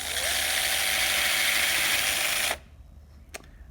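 A small drill with a 2.5mm bit whirs steadily into a plastic bone model during a TTA surgical dry lab, running continuously for about two and a half seconds before stopping abruptly, followed by a faint click.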